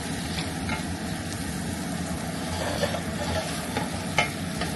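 Onion sautéing in a pan for chicken adobo gives a steady, close sizzle with faint stirring clicks and scrapes throughout.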